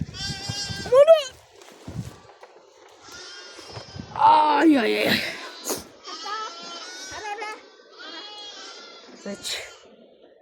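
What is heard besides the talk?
lambs bleating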